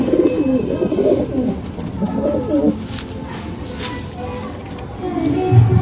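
Punjabi Malwai pigeons coo in low, throaty repeated phrases close by, with a faint rustle and background hum underneath.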